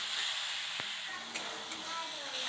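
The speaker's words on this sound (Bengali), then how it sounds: "এবার মশলাটাকে আমি ভালো করে কষাবো।" Spices and tomato paste fry in a pan with a steady, close sizzle and crackle that carries on alone without pause, a brief sharp tick sounding once partway through.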